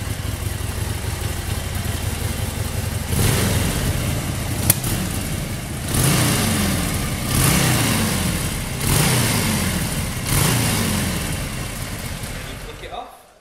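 A 2017 Harley-Davidson XL1200C Custom motorcycle engine idles loudly up close, then revs in four or five strong rising bursts that each fall back to idle before the engine cuts off.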